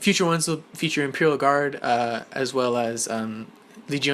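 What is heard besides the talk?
None of the usual background noises is heard.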